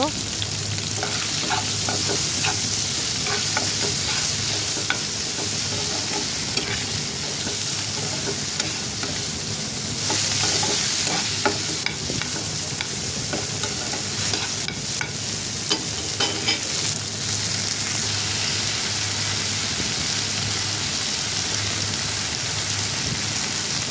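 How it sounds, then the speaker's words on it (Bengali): Boiled, picked-over taki fish being stirred in a frying pan for fish jhurjhuri, with a steady sizzle of frying filling the whole stretch, punctuated by soft scraping stir strokes; no talking. "সব দিয়ে ভালো করে নাড়াচাড়া দিয়ে দিব"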